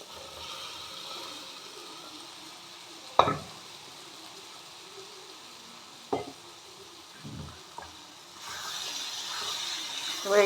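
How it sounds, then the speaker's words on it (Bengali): Kabuli chickpeas fry in a pan with masala in oil, giving a soft, low sizzle with a few sharp scraping stirs of a spoon spaced a few seconds apart, close and fairly quiet, with no speech. "এবার একটু চানাগুলো কষিয়ে নেব মশলার সাথে"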